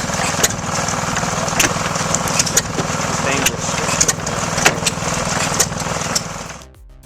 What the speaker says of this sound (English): vintage wood splitter powered by a rare sandwich engine showcases both old-world charm and raw power